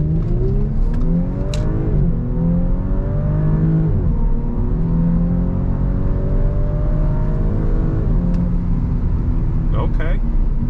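A 2018 Audi S5 Sportback accelerates hard onto a road, its engine note climbing through rising gear pulls with shifts between, heard from inside the cabin as a steady loud drone.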